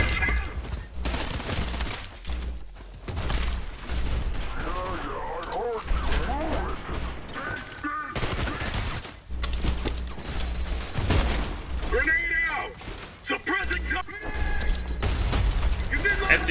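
Pistol gunfire rattles in the video game F.E.A.R., with repeated loud shots and bursts layered over busy game effects, while a person talks over the action throughout.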